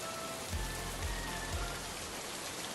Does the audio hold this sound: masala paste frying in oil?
no